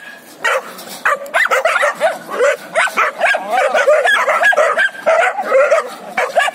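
A dog on a walk barks and yips repeatedly in quick, excited bursts, close and fairly loud, with some whimpering high notes mixed between the barks.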